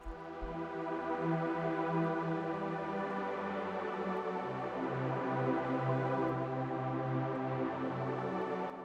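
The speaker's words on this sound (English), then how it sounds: "we also have our pads here too, which are playing the chords" Soft synth pads from a Nexus preset hold sustained chords, shifting slowly beneath a quiet electronic backdrop, smooth and even throughout.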